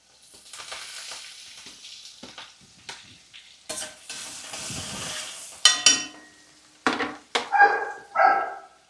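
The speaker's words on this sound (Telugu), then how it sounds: "ఫస్ట్ ఉల్లిపాయలు వేగిపోవాలండి ఎర్రగా." Onions frying in a pan for a mixed vegetable curry with cauliflower and broad beans, a soft sizzle broken by sharp spatula stirring and scraping bursts that grow louder toward the end.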